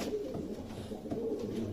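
A female pigeon coos in low, soft rumbling pulses that repeat steadily over a faint background, with no voices present.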